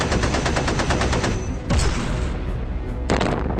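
A B-17 bomber tail gunner fires a machine gun in loud, rapid, close bursts, with a short pause before the rattling fire resumes.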